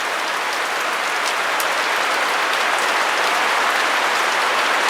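Heavy rain falls outdoors in a dense, continuous hiss of drops on surfaces, loud and steady throughout with no speech.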